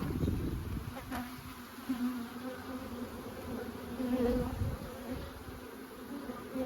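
Honeybees swarm around an open beehive, a dense steady buzz close by with individual bees droning past now and then; no one speaks.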